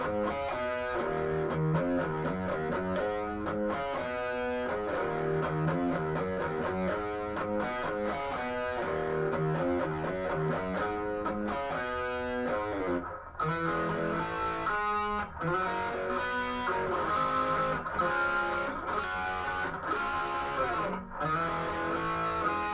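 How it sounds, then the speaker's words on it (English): Distorted electric guitar riff, the part under the guitar solo, with chugging palm-muted rhythms and choppy accented chords, loud and steady throughout, no talking. "this is the riff that's played underneath the guitar solo"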